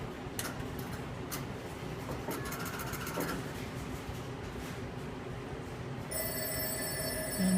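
Telephone on a No. 1 crossbar exchange test setup: after a stretch of steady equipment clicking and relay chatter, a bright electronic ringing tone starts near the end and grows louder, heard alone without talk.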